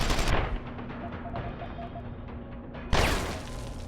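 Combat rifle gunfire in the video game Deus Ex: Human Revolution, loud bursts opening and closing the stretch with a quieter rattling tail between, no talk.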